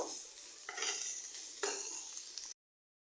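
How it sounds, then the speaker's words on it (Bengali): Chicken sizzling in a pan as a utensil scrapes through it in a couple of stirring strokes, close up, then sudden silence. "খুব ভালো করে আমি চিকেনটা রান্না করে নিব"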